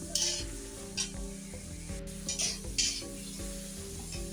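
Okra frying in a pan on a gas stove, a steady sizzle with repeated scraping and stirring strokes of a utensil against the pan, close and fairly quiet, with no talking.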